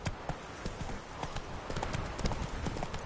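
Roach the horse trots in The Witcher 3, hooves clip-clopping in a steady, close rhythm throughout, mixed with outdoor ambience and a faint voice.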